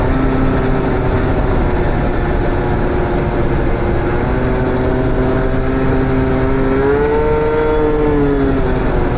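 A tuned scooter engine drones steadily while climbing a roughly 500-meter hill, a loud continuous buzz whose pitch rises slowly toward the end, heard close with wind noise.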